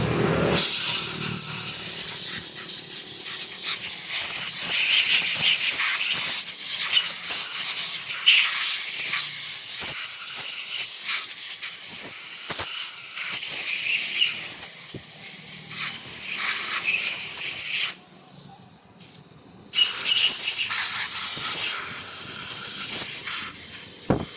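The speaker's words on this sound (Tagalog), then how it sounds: "kailangan natin yan linisin gamitan natin ng air compressor para malinis yung loob" An air compressor nozzle blasts a steady, loud, hissing jet of air to clean the inside of a leaking water pump, running continuously with a short drop in the middle before resuming.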